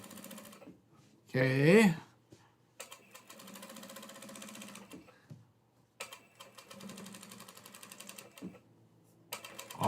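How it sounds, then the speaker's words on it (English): A sewing machine top stitching a flat seam runs in several bursts, a short loud one and then longer steady runs with pauses between, close by, with a few brief spoken words. "We just made the edge stitch, and now we're doing the top stitch on the seam like this."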